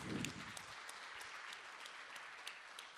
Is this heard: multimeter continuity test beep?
no